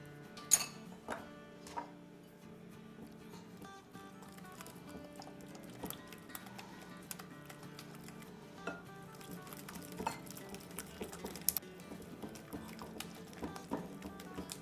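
A whisk stirs melted butter or ghee in a bowl for no-oven chocolate brownie batter, making faint, uneven tapping and scraping clicks against the sides that rise and fall over a quiet background.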